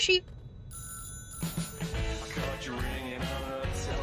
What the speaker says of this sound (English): Alright, let's answer this phone.